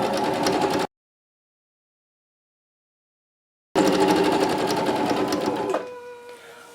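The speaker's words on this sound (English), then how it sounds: "I am going to sew about 3/8 of an inch away from the edge" A sewing machine stitches a homemade cloth diaper, running steadily and loud up close, stopping for a few seconds of silence, then starting again and slowing toward the end.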